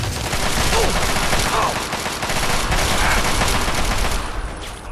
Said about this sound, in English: Oh, this is shooting at us.